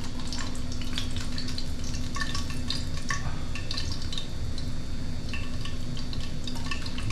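Tilapia fries in a pan of oil, a steady loud sizzle and crackle with scattered pops and spatters throughout.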